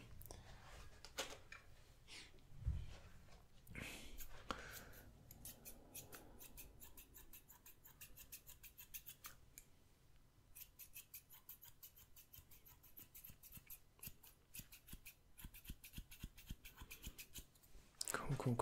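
Close, quiet snips of scissors cutting hair during a roleplay ASMR haircut, with a long run of rapid rhythmic snipping in the second half and a soft voice speaking at times.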